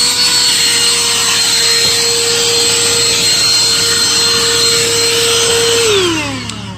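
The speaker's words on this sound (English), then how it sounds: "It's a hand vacuum you can get on Amazon." A Black & Decker handheld vacuum runs close up inside a car, giving a steady loud motor whine with rough suction rubbing as it works over the interior, then spins down at the end.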